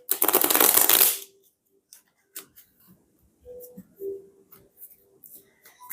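Tarot cards being shuffled, a dense riffling burst for about a second, then scattered soft card flicks and rustles with faint bits of voice in a quiet room.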